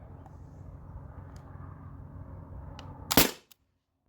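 A single sharp shot from a modified T4E HDR50 pistol firing steel balls, a loud close crack near the end after a low background hum, then silence.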